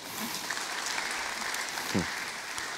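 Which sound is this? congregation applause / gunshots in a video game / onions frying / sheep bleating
congregation applause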